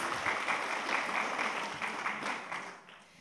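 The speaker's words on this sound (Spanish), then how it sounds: "Por favor, un aplauso para las niñas." Conference audience applauding for a group of fourth-grade schoolgirls, a soft, somewhat distant spread of clapping in a hall that holds steady and then thins and fades out toward the end.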